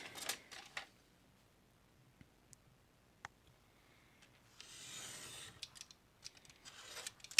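Scissors trim a piece of card with a few quiet, crisp snips spread apart, followed by soft paper rustling and handling noises, all close by in a quiet room.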